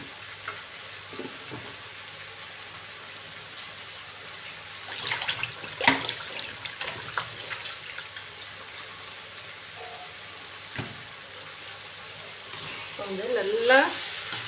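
Rock salt being stirred and scraped around a hot pan, a soft sizzle with gritty scraping bursts at moderate distance, fairly quiet throughout.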